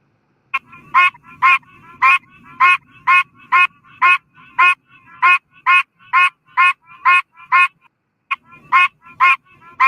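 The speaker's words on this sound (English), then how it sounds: "These pine barren tree frogs quack or honk like a goose." Pine barrens tree frogs give goose-like honking quacks, a rapid series of loud, evenly spaced calls repeating about twice per second with one short pause, close and clear over a quiet background.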